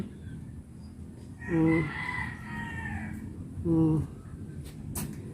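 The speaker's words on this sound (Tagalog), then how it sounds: "Ang mga pangit ng mga manok." Chickens call out twice, loud and drawn-out, close by, over a constant background hiss of outdoor noise.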